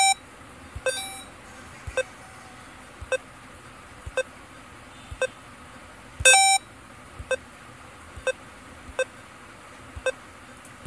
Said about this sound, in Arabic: بيب. بيب.